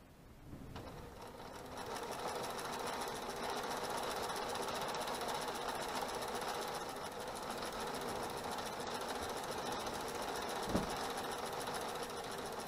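A sewing machine stitching steadily while a quilt is fed through it by hand, a continuous loud mechanical whirr that runs unbroken for the whole stretch, with one small knock near the end.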